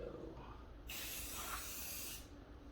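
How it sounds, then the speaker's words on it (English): A short burst of aerosol spray paint onto a rifle hisses steadily for about a second and a half, close and fairly quiet, with soft room noise before and after. "Spraying."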